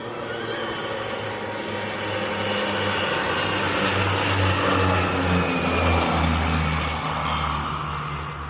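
A Royal Nepal Airlines propeller airplane drones loudly and steadily nearby at a mountain airstrip on the Nepal trekking route. The engine hum swells toward the middle and stays strong, with no voices.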